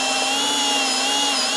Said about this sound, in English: I'm using a unibit.